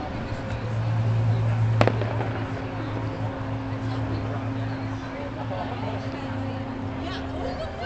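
New Year's fireworks over Seattle going off in the distance, with a sharp crack standing out among dull rumbling bursts, heard beneath a murmuring crowd and nearby chatter with a low steady hum.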